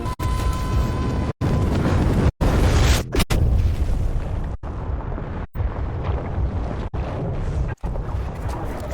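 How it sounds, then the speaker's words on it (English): Heavy explosives detonating in Battlefield 4 produce a dense, loud, continuous rumble of booms and roaring blasts, broken by a few abrupt cuts, with no voices. "You go into a safe place and detonate the explosives"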